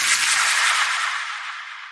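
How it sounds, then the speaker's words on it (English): Rewind sound effect sample in a breakcore track: a loud, dense, hissing sweep that fades gradually over two seconds, with no other sounds or voices. "But we also have a rewind sample."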